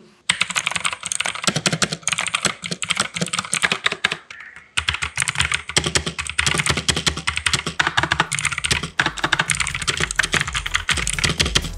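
Rapid, crisp clicking of keys on an Armaggeddon MKA-2C budget mechanical keyboard, a dense close-up typing rhythm with a brief pause partway through.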